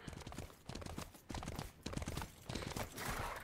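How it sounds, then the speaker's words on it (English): Horse hooves clip-clop steadily in the Smite video game as a mounted character rides, quiet and continuous, with faint game sounds underneath and no talking. "I'm on a horse."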